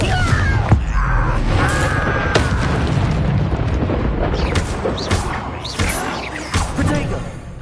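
Confringo blasting spell in Hogwarts Legacy, a run of heavy booming explosions and sharp impacts over a rumbling battle din, loud and close, with shouted voices mixed in.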